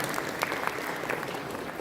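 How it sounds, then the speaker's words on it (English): Steady audience applause at an education symposium, dense even clapping from a crowd heard alone throughout. "A big round of applause for each and every one of you"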